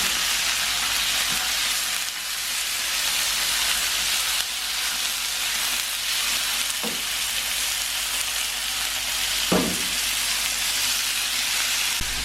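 Chicken, ginger and garlic fry in a pan with a loud, steady sizzle throughout, broken by a few brief clanks of stirring.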